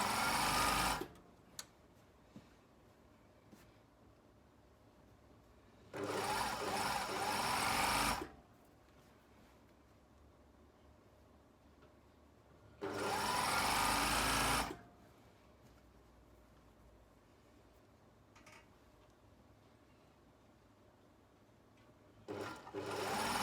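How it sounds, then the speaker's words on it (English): A domestic sewing machine stitching fabric between sections, running in two steady bursts of a couple of seconds each, separated by quiet pauses, with a short start at the very end. "I'm just going to sew between the sections"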